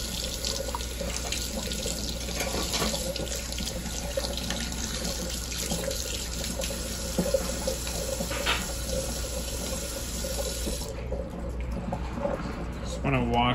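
Tap water running steadily into a sink to rinse seeds being surface sterilized for plant tissue culture, a continuous close splashing flow that cuts off near the end.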